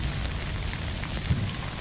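Steady rain falls in the video game Death Stranding, a constant hiss of drops with a low rumble underneath, heard alone and even throughout.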